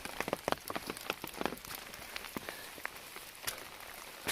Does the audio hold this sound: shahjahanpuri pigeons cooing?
no